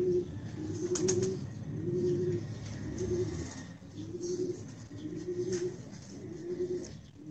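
Pigeons coo in a steady, repeating rhythm of low throaty calls, close by and fairly loud, with soft background noise and no talking.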